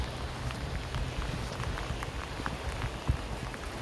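Rain falls during a predawn walk as a steady, close patter with scattered droplet ticks and one sharper thump near the end, and no one speaks.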